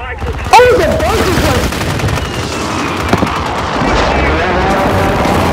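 A mounted bunker machine gun fires a long, dense burst in Call of Duty Warzone on Rebirth Island, with loud rapid shots and booming impacts continuing throughout and players' voices mixed in.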